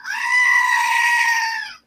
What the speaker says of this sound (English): I want to give you the goat scream as appreciation.